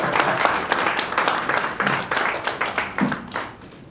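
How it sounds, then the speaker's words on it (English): A small audience at a business mediation event applauds steadily for several seconds, a close, dense patter of hand claps that gradually thins out and fades. "Please give them a big round of applause."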